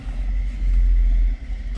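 A 1966 Buick Skylark with a 340 V8 and automatic transmission idles nearby, a deep, steady rumble that swells briefly as if lightly revved before settling back, heard alone.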